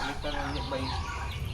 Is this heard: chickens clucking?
yes